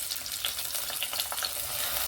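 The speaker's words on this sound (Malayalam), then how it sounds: "നമുക്ക് ഇതിലേക്ക് അരിഞ്ഞ് വെച്ച സവോള ഇട്ട് കൊടുക്കാം." Chopped onions hit hot oil in a heated pan and sizzle steadily, a bright crackling hiss with small spits and pops heard up close.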